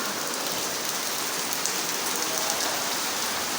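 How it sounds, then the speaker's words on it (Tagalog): Heavy rain pours steadily in Makati, a dense hiss of drops hitting surfaces, continuous and close with no voices. "ang lakas ng ulan dito sa Makati"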